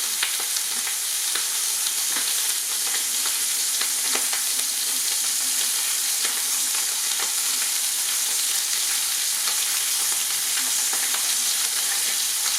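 Brisbane River bream frying in a pan with a dash of soy sauce, giving a steady, loud, bright sizzle with small crackles and pops that runs unbroken throughout.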